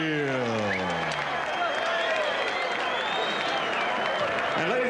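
Boxing arena crowd at a heavyweight bout between Evander Holyfield and Alex Stewart, steady broad applause and cheering filling the hall throughout, with a ring announcer's voice and some whistles over it.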